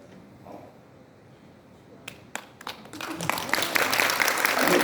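A lecture audience starts with a few sharp scattered claps, then swells into fuller applause that keeps building to the end.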